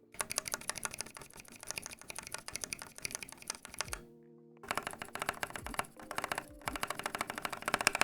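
Linear mechanical keyboard switches are pressed in quick, irregular bursts of close, crisp clacks, with a brief pause near the middle before the typing resumes, no voices present.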